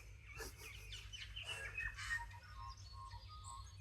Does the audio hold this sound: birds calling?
yes